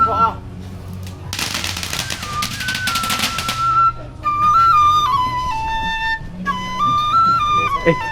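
A rapid string of crackling firecracker bursts for a couple of seconds, followed by a bright bamboo flute melody over low background noise, during a temple pilgrimage procession at Shoutian Temple, Songbailing, Taiwan.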